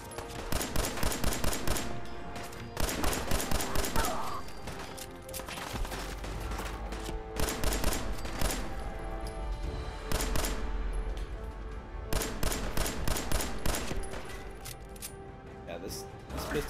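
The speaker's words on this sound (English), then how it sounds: "Yeah, this pistol does a pretty good job." Pistol gunfire in the Wasteland Wanderer video game comes as rapid clustered volleys of sharp shots, loud and close, in repeated bursts with brief pauses between.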